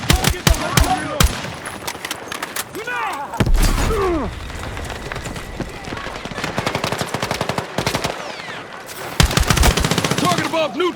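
Heavy gunfire in a Battlefield 6 combat mission: rapid automatic bursts and single loud shots crack repeatedly up close, with booming impacts and shouted callouts between volleys.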